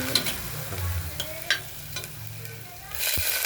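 Moong dal fries lightly in a pressure cooker, a soft steady sizzle with a spoon scraping and stirring in short strokes and occasional clinks against the metal.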